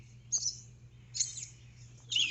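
A bird calls loudly three times, short bright bursts spaced about a second apart, over a low steady hum outdoors.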